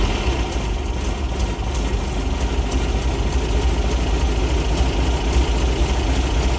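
A 1955 Porsche 550 Spyder replica engine idles after a cold start, a steady low, rumbling idle that stays even and close throughout with no voices.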